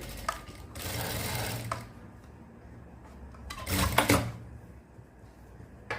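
A power sewing machine stitches slowly in two bursts of rhythmic mechanical whirring and tapping, separated by a quieter pause, close by and clear.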